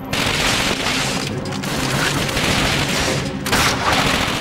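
Tank cannon fire amid battle noise in the video game Call of Duty: Finest Hour, a loud, continuous barrage of booming blasts and gunfire filling the whole stretch, no speech.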